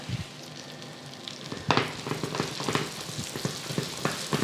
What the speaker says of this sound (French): on va attendre que nos amandes commencent à torréfier